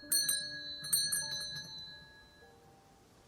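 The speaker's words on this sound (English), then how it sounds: "That's a terrible bell." A doorbell in the game Contradiction chimes in quick, bright metallic strikes, two clustered rings followed by a run of lighter tinkling notes that fade into a thin lingering tone, fairly quiet and alone.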